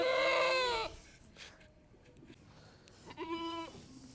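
Goats on a farm in India, kept and raised for sacrifice, give a loud, close harmonic bleat that lasts nearly a second. A shorter second bleat follows after a quiet stretch of farmyard noise.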